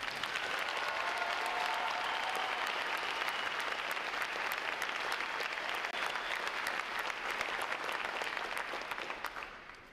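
Large-crowd applause at a U.S. Navy recruit graduation ceremony, dense continuous clapping from many people sustained for about ten seconds before beginning to fade.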